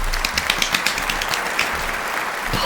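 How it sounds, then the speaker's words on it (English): Audience applause plays as a burst of close, brisk clapping that holds fairly steady for a couple of seconds, with a faint voice underneath. "Insert like audience claps."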